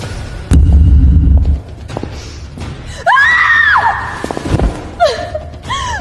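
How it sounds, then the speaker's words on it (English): A woman screams after falling to the ground, a loud sharp cry amid other brief vocal sounds and thumps in a short scene. "I saw her fall to the ground herself, then let out a scream."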